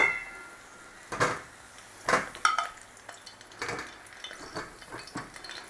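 Sausages dropped into a hot frying pan, with faint sizzling under a series of clattering pan and utensil knocks, a few sharper clinks standing out, close-up and fairly quiet.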